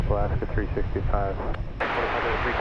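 A jet airliner waits at DFW airport ready for takeoff, its engines a steady broadband roar under a person talking, swelling louder and brighter partway through.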